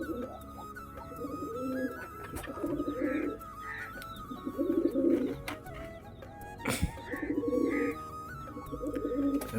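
Pigeons coo close by in repeated soft, rolling bursts at an irregular rhythm, with a sharp click or knock partway through and faint background hum.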